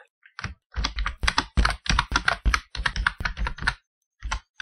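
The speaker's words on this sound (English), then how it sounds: "then I type in what I want to use as my text watermark." Rapid keystrokes on a computer keyboard as watermark text is typed into Microsoft Excel, crisp close clicks in quick irregular bursts with a short pause before a final few taps.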